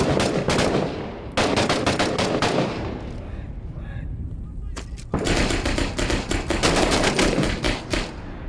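Rapid gunfire bursts in Six Days in Fallujah, loud close automatic shots in dense strings broken by a short lull, with people talking in between.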